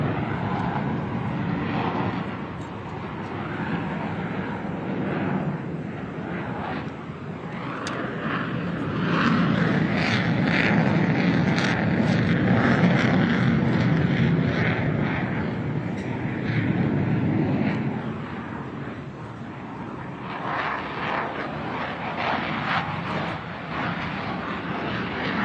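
An F-35C fighter jet makes a slow, high-angle-of-attack pass over a military flyover celebration, its broadband engine roar swelling and holding loud before easing off, with no talk.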